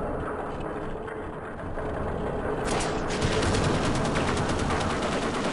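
Gunfire from the video game Half-Life: Opposing Force rattles out as a dense, continuous burst of rapid shots, loud and close, growing fuller partway through.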